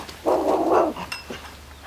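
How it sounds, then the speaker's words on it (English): Upset dog barking after chasing a bird it could not catch: one drawn-out, fairly close bark or yelp, followed by a shorter, softer second sound and quiet, with no human voice. "My dog just chased a bird and she's very upset because she can't fly"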